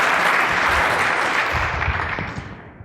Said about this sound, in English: Give a big round of applause, please, to Baron